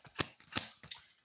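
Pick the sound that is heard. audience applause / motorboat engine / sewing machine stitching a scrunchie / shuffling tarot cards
shuffling tarot cards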